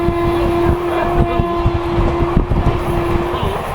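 Howrah–Rampurhat Shahid Express with new LHB coaches running fast at around 128 km/h, a loud, dense roar of wheels on rails with a sustained horn tone holding through most of the stretch.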